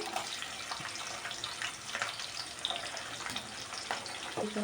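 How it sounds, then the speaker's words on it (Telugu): Chopped onions drop into hot oil with tempering spices for a potato fry, giving a steady, close, watery sizzle with small crackles and brief spikes throughout. "ఇప్పుడు ముందుగా కట్ చేసుకున్న ఉల్లిపాయ ముక్కలు కూడా వేసుకోవాలి"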